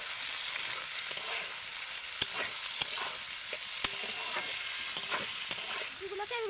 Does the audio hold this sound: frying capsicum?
yes